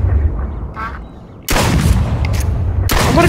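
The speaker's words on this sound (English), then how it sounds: "I just gotta keep shooting until I get the shell" Loud shotgun blasts in the video game Duck Season, two sharp booming shots about a second and a half apart that ring out and fill the space after a quieter stretch.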